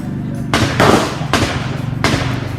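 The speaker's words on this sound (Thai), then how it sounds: "เดี๋ยวจะยิงนะครับ ใส่ไป9นัดเลยทั้งหมด9นัดนะครับ" Three loud, sharp shots from a Taurus M992 pistol, spaced about three quarters of a second apart, each with a ringing tail over a low background hum, close by.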